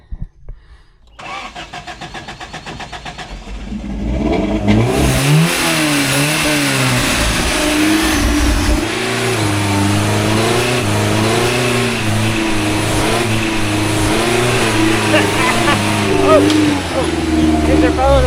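Carbureted car engine on an incline grinds through a few seconds of rhythmic cranking, catches and fires, then revs up and down repeatedly at close range, loud and rough, with voices talking over it.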